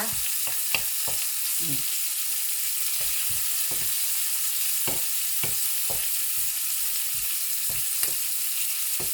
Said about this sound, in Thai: ผัดหอมให้สุกข้าง ๆ นะคะ